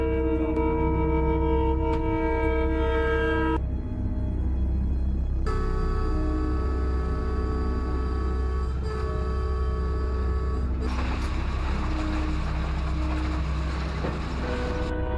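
A train passes on railway tracks in the American Midwest, with a loud steady rumble of rolling wagons and repeated horn blasts sounding close by, without talk.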